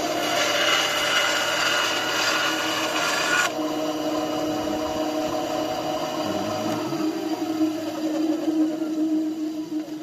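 A TOTAL band saw makes its first cut through 15 mm wood, giving a loud, steady whine and rasp. The sound eases partway through but keeps running evenly to the end, with no talk.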